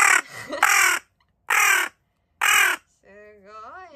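A carrion crow gives three loud, harsh caws close by, separated by short silences. A wavering, tonal voice follows at the end.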